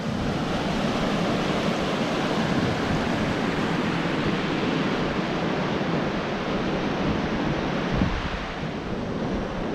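The river along the Bright Angel trail in the Grand Canyon rushes with a constant, dense wash of flowing water, steady and close, with no voices.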